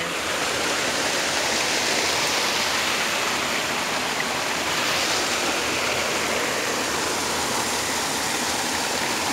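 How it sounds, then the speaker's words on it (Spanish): A forest stream in the Yungas pours over a small waterfall, making a loud, constant broadband rush that stays steady and close throughout, with no voices. "nos encontramos con este arroyo que tiene una forma de cascada bastante linda"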